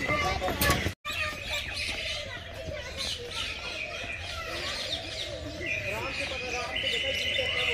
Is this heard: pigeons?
yes